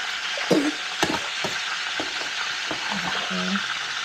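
A spoon scrapes down homemade mashed potatoes in a pot, giving a few distinct scraping strokes over a continuous low hiss from the cooking.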